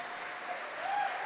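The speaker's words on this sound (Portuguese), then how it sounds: "Aplauda o seu irmão, vira para ele e aplauda." A church congregation applauds one another, with steady clapping spread across the room and a faint voice carrying over it.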